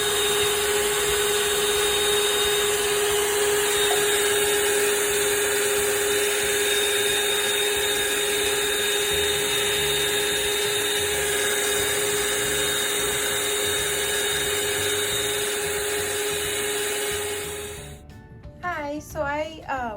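Electric hand mixer whirring steadily while blending homemade body butter, a loud continuous high-pitched motor drone that cuts off near the end, followed by brief talk.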